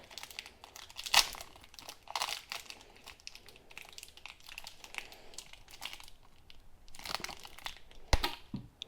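Cellophane wrapper crinkling and tearing as a pad is opened and a corner cut off, with close irregular crackling rustles and a few sharper snips and crunches.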